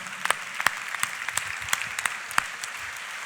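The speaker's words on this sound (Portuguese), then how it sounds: "dessem uma grande salva de palmas ao nosso convidado, Miguel Castro" An audience applauds a guest speaker at a Family Reunion Portugal morning event, with scattered sharper claps over a thin, sparse bed of clapping in a roomy space.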